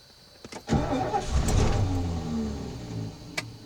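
A 1972 Lincoln Continental cranks briefly with a few clicks, then its cold engine catches with a loud roar that settles into a rough, uneven idle close by.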